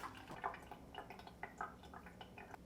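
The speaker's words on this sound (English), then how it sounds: "And now I just have to wait for it to finish filtering." Water drips through a filter after being filled at a sink faucet, heard as faint, irregular small drips and trickles that continue on their own.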